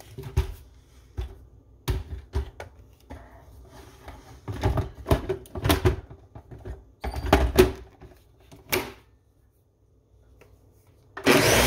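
Kitchen clatter and knocks are followed by a blender starting up loudly at the end, whirring batter for a cake roll made from cooked rice.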